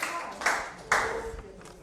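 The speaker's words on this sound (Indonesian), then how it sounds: "Oke, tepuk tangan dulu dong." A class of students claps in a couple of sharp, moderately loud group bursts, the claps loosely together and followed by lighter scattered taps.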